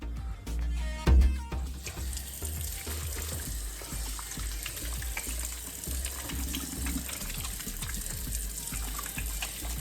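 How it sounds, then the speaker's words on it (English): Running tap water splashing over hands at a kitchen sink, a steady close wash of water with small irregular splatters throughout. "I'm gonna wash my hands real quick."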